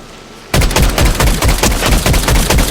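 Fortnite gunfire: a sudden burst of rapid, loud, continuous shots that fires in a dense rattling stream for a couple of seconds without talk.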